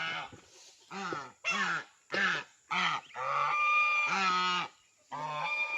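A goose, one of a different breed kept apart from a goose with goslings, gives a run of loud, close honks in quick succession, each call harsh and nasal with short gaps between.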